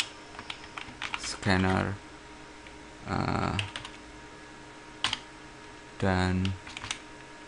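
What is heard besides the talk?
typing code on a computer keyboard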